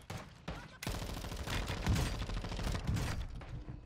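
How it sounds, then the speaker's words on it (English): Rapid bursts of gunfire from a Call of Duty Warzone 2 match crackle loudly and almost continuously, dense overlapping shots and automatic fire with a couple of heavier impacts. "Who's shooting?"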